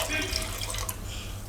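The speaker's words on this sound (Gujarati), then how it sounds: "તો અત્યારે આપણે 1 પવાલું ભરીને પાણી નાખશું" Water poured from a small cup into a kadai over vegetables being steamed for a Gujarati varadiyu dish, a steady, close splashing stream lasting the whole moment.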